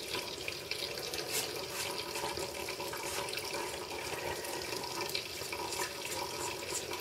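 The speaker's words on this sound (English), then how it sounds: "I'm sure this water drizzling is not helping my video at all" Water runs from a tap in a steady, even stream of splashing that carries on without pause, with no voices.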